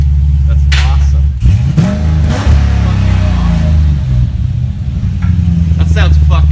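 Built 2014 Jeep SRT8 with an 82mm turbo, exhaust revving with a deep, bassy rumble that swells and falls in several close, loud pulls, with people talking over it.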